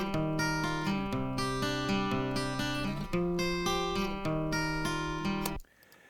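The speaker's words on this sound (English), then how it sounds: "So the acoustic sounds like this." Recorded acoustic guitar plays a steady strummed and picked chord pattern, bright and close, continuing for several seconds before cutting off abruptly near the end, with no voices.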